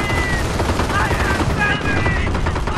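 Dense, continuous gunfire from a Company of Heroes battle, machine-gun rattle and rifle shots layered loudly throughout, with faint radio-style unit callouts mixed in.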